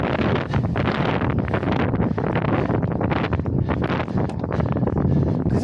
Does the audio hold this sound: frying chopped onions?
no